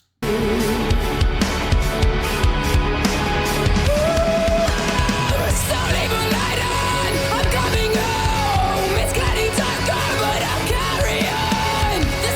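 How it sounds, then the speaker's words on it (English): A loud, forceful roaring howl bellows on without pause, harsh and sustained, with screeching edges throughout. "Forceful explosions, screeches, howls from the very core driving up, bellowing out"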